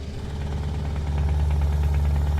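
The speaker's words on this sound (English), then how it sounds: "you can hear it over, even over the radio guys, you're able to hear the engine" Steady low diesel drone of a Scania Longline truck engine in Euro Truck Simulator 2, idling to cruising with a constant hum and faint rattle, loud and unbroken throughout.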